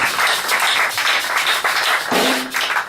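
A church congregation applauding together in steady, dense clapping that fills the room, loud and continuous with slight swells, and no voices rising above it.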